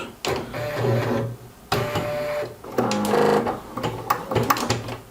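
A Pfaff Creative 1.5 embroidery machine fitted with a magnetic hoop runs in steady mechanical bursts, its stitching rattle and whir rising and pausing several times at close range with no one talking.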